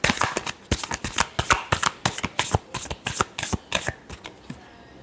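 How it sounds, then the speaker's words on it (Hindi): Tarot cards being shuffled up close, a run of crisp riffling bursts in an uneven rhythm, loud and with no talking. "Last shuffle."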